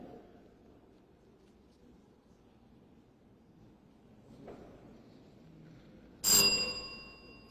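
A single bell rings at a school quiz competition, sounding near the end after a long, quiet stretch of faint room noise. The bright ding rises sharply and then fades slowly.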